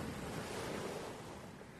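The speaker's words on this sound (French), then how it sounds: "La marée monte et les vagues sont petites." Small ocean waves washing in on a rising tide, a steady soft surf wash with wind noise throughout, faint and continuous.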